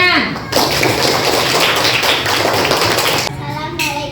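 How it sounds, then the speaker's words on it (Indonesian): Schoolchildren at an elementary school clapping their hands together, a dense, loud burst of rapid claps lasting about three seconds, briefly overlapping a voice at the start and fading into speech at the end. "Tepuk tangan."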